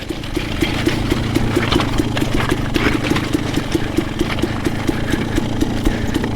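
A Yamaha YZ250FX dirt bike engine idling and puttering steadily at a hard enduro event on a mountain, with a rapid even rhythm and a loud, close sound throughout.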